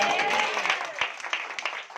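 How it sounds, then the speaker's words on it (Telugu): Church congregation applauding during a Telugu sermon by a pastor, a steady wash of clapping that swells and fades over two seconds, with a voice rising faintly beneath it. "గట్టిగా చప్పట్లు కొట్టండి"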